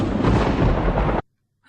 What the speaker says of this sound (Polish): Co to? Burza.